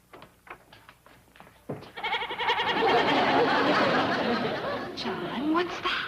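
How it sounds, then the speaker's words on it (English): A goat brought into a house in a classic sitcom scene, bleating and snickering in a loud, sustained run after some brief indoor chatter, with voices mixed around it. "It's a goat, dear."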